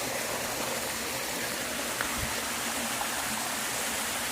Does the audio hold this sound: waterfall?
yes